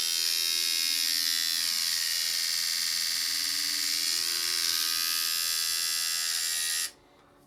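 An Inkclaw tattoo machine fitted with a T-Tech cartridge needle runs at 7 volts, giving a steady, loud, high electric buzz that holds evenly for about seven seconds and then cuts off abruptly.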